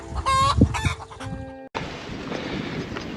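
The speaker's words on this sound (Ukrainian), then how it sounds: "Кури вільно гуляють." Free-range chickens cluck and squawk close by for a second or so on a rural roadside, followed by a steady outdoor wind rush.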